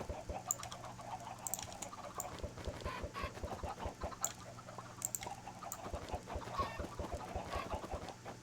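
Minecraft chickens give soft, scattered clucks and patters that repeat irregularly over a low background, faint and fairly distant, with no voices present.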